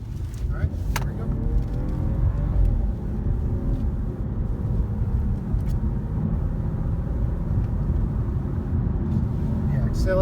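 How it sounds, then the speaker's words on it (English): A 2017 BMW 540i (G30) accelerates into a turn, a steady low engine drone and road rumble filling the cabin from start to finish, with a few faint clicks on top. "Accelerating into the turn, these are the things that you enjoy with these cars."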